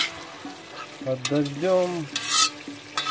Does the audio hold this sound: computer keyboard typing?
no